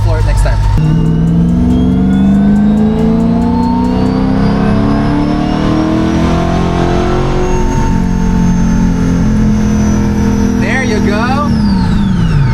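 A 700hp supercharged Corvette C8 revs hard on a dyno, loud and near, its engine note climbing steadily through a long pull, then dropping away at the end, with voices talking over it.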